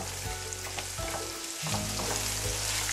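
Great Value canned diced ham fries in a pan, a loud crackling sizzle close up with repeated popping spatters and brief stirring scrapes throughout.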